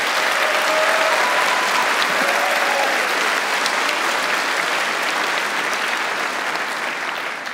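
Sustained audience applause inside a basilica, dense and loud clapping filling the space evenly for the whole stretch with no pause.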